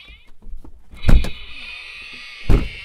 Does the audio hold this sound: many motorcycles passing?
no